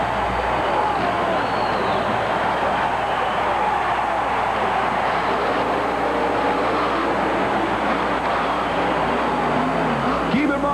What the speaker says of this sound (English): Dale Harris's incredible full-body 1957 Chevrolet Monster. Colt Casper leaves the line.